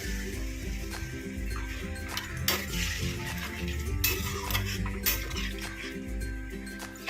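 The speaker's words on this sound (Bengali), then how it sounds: "মশলা থেকে তেল ছেড়ে দিয়েছে এবার জল দিয়ে দেবো" Water added to spices frying in oil in a pan for a Bengali katla fish curry with ground kalonji: close sizzling and spluttering with scraping stirs and a few sharp clinks of utensil against pan.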